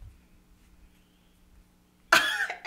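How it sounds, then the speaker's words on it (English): After near silence in a quiet room, one sharp, close cough bursts out, followed by a short second throat-clearing huff. "Cough."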